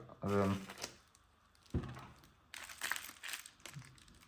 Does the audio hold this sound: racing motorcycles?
no